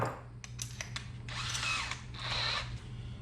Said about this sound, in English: now we're going to drill a 3/8 hole for our wiring grommet